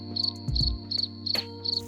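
Crickets chirp in short repeated bursts, a steady high trill pulsing about five times over a quiet low hum, fairly close and alone with no voices.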